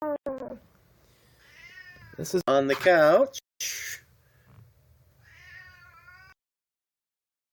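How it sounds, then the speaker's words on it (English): A cat meows loudly several times, drawn-out and wavering cries close by, with a person speaking briefly between the calls. "The other cat is meowing pretty loudly in the background here."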